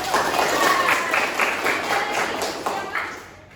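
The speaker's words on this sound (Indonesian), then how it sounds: "Oke, tepuk tangan untuk mereka." Classroom applause from students after a school guidance session presentation, steady clapping filling the room for several seconds before tapering off near the end.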